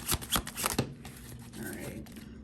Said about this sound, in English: I'm going to go ahead and shuffle now